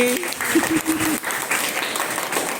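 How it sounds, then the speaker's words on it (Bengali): Loud, continuous applause from a group of schoolgirls fills the space, with voices mixed in during the first second. "জোরে হাততালি"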